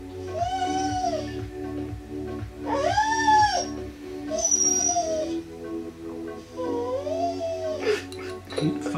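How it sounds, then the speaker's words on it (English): A dog howls in several long, rising and falling wails, close and loud, with short breaks between them. "What you talking about, dog? Funny dog."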